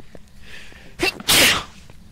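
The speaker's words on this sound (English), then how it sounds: "Yep, bless you. Sneeze." One loud, close sneeze bursts out after a short sharp intake of breath, over a quiet steady background hum, with no talking.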